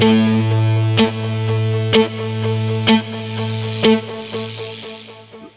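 Distorted electric guitar plays a chugging palm-muted part in an indie rock style, with sharp, regular attacks about once a second over a sustained low note, loud and without talking.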